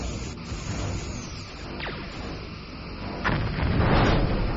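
Starship torpedoes fire in the Star Trek Bridge Commander space combat game, a sweeping whoosh near two seconds, then a heavier rumbling blast swelling loud from about three seconds to the end over a constant engine drone.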